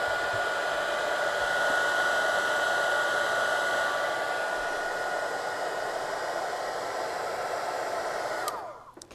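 A heat gun blasts a steady, loud airflow while melting embossing powder on a junk journal page, a continuous hiss-like roar that holds for about eight seconds before cutting off abruptly near the end.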